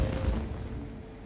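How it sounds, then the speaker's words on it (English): Fireworks going off in the Genshin Impact video game: a dense, booming low rumble of bursts in the opening half, then a fading crackle under a steady game soundscape. "It sounded like fireworks."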